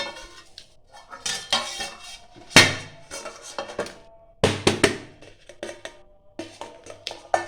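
Scraping, clattering clinks of metal utensils against metal dishes as a cooked egg mixture for dim bhapa is poured out onto a metal plate, with several sharp loud impacts between quieter scraping, no speech.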